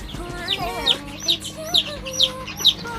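Chickens and chicks on an organic farm cluck in a regular series of about six sharp, close calls over a soft background of smaller peeps and farmyard murmur.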